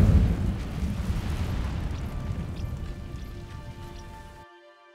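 A burst of the Incendio fire spell in Hogwarts Legacy, an opening whoosh that settles into a crackling, hissing roar and slowly fades over a few seconds, with no talk.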